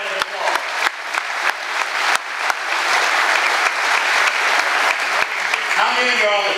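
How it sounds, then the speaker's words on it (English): A meeting crowd at a tax discussion gives a sustained round of applause, broad and fairly close, with a few sharp knocks near the start and a voice coming in at the very end. "Everybody, give yourself a round of applause."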